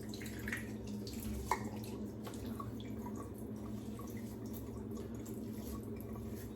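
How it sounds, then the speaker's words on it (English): Water runs and drips faintly and steadily from a tap as a block of alum is rinsed off after a shave, with one small knock partway through. "Rinse off the alum."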